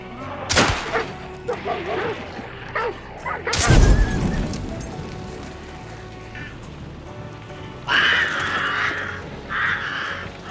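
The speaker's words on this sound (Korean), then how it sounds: "게장, 닭장 등이 있는데 헌터 근처에 가면 짖어서 주변 헌터들이 들을 수도 있습니다" Dogs in a kennel in the video game Hunt: Showdown let out several loud, sharp barks among thuds and clatter, while a voice talks over part of it.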